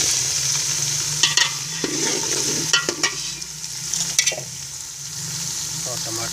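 Mutton for white pulao cooks in a pot, a constant close sizzle with intermittent scraping and clanking stirs of a metal spoon.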